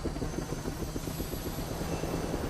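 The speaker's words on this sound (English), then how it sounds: "Is that how a helicopter's supposed to sound?" A helicopter with an odd-sounding flight thuds overhead in a steady, pulsing rotor chop, loud and continuous with no voices.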